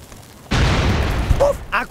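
A single loud, booming cannon blast in the Shrek Forever After video game hits suddenly and rumbles for about a second before fading, followed by a brief higher-pitched tone and some faint vocal sounds.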